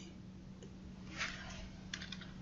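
A few light keyboard taps as a short prompt for an AI image generator is typed, faint clicks scattered over a steady background hum.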